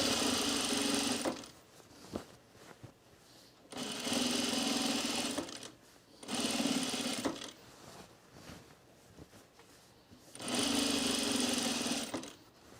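A sewing machine runs in three or four steady bursts while stitching piping onto a color-block top with grey thread, with short pauses between runs and no talk.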